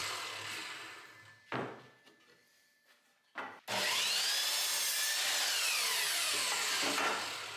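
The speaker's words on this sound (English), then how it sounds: "Next I trim off the ends of the planks used for the legs" A handheld saw cuts through the end of a wooden plank, short rasping strokes at first, a pause, then a long loud run of rapid back-and-forth sawing close by.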